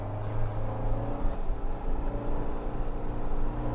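A car engine labours uphill in low gear on the high-altitude Umling La road in Ladakh, a steady, close droning hum with slight surges in pitch and no voices.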